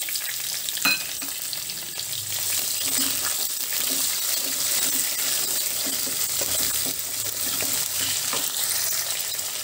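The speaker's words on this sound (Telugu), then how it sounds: "ఇప్పుడు పొడవుగా కట్ చేసి పెట్టుకున్న ఉల్లిపాయ ముక్కలు వేసుకుందాము" Sliced onions frying in hot oil in a pan for an okra fry, a steady close sizzle throughout with occasional stirring clatter, no talk.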